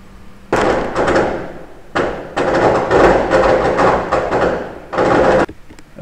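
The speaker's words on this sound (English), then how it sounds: "Okay, sorry about the fireworks" Fireworks go off outdoors in loud, sustained bursts of crackling blasts. Several long rumbling stretches are separated by short pauses, and they sound fairly close and dominate the scene.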